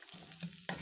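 Garlic stir-frying in an already hot pan, a steady close sizzle with light scraping from stirring and a sharper burst near the end.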